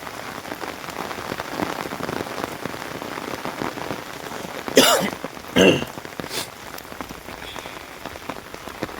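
Heavy rain pouring down in a village, a continuous close hiss of drops on surfaces, with a couple of brief louder rustling bursts near the middle.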